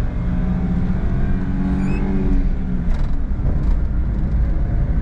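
A small mid-engine Suzuki Every Joypop kei van revving up as it accelerates, a loud rising drone with climbing pitch, heard from inside without speech.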